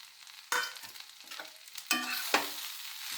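Cut bread pieces are stir-fried with vegetables in a pan for a masala veg bread toss, a soft sizzle broken by several sharp spatula scrapes and tosses.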